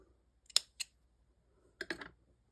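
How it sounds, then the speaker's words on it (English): Two crisp snips of scissors cutting white yarn in a quiet room, then a second quick pair of snips a moment later, close and clear with no talking. "we can cut off our white because we're not going to be using that again"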